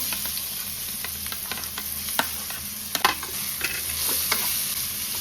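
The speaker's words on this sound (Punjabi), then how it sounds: "ਹੁਣ ਆਪਾਂ ਇਹਨੂੰ ਹਿਲਾਵਾਂਗੇ ਤਾਂ ਕਿ ਮਸਾਲਾ ਸਾਰੇ ਅੰਬਾਂ ਦੇ ਉੱਪਰ ਲੱਗ ਜੇ" Raw mango pieces stirred with spices in hot oil over a low flame for a sweet-and-sour chutney: a steady bright sizzle under repeated quick spatula scrapes and clacks, close and fairly loud.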